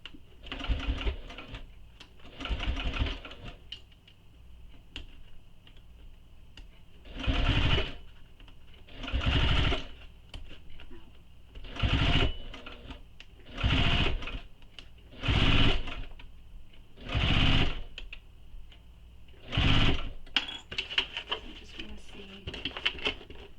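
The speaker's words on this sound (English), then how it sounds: "So I'm just stitching it down, and I'm using my awl on my stiletto." A sewing machine stitches fabric down on a bowler bag in repeated short bursts of rapid, close mechanical whirring separated by brief pauses, with quieter handling sounds between runs.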